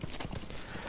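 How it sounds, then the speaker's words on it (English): A horse's hooves clip-clop at a steady trot in Metal Gear Solid V: The Phantom Pain, close and moderately loud, with quick repeated thuds and no talking over them. "Don't know why I'm just going around on a horse"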